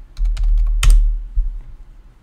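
A short burst of keystrokes on a computer keyboard enters a filter query, several quick close clicks with one heavier press near the middle, then quiet.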